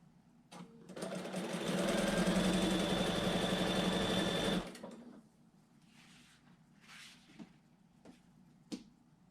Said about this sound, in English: I have 6 strips here, and I am going to sew them together just straight end to end.